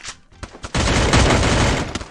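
Rapid bursts of gunfire in the Free Fire battle royale game: a few sharp separate shots, then a loud sustained volley of overlapping fire lasting over a second, with scattered shots trailing after.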